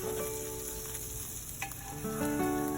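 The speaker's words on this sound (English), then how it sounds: "add me a little bit of ginger, and then I'm gonna mix that in and let it burn" Ginger fries in a pot as the base for Jamaican curry chicken, with a dense, continuous close-up sizzle and a brief stir partway through.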